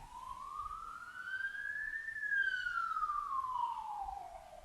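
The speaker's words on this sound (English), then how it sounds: "That's a siren." A single siren wails in a slow rise and fall, heard from a distance and fairly faint over a quiet background.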